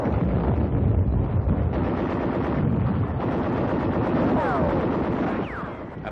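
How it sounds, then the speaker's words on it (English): Mortar, machine gun and small arms fire rattle during the World War II beach landing on Corregidor in the Philippines, a dense, continuous crackling barrage with windy noise that thins slightly near the end. "mortar, machine gun, and small arms fire meet the men as they hit the shore"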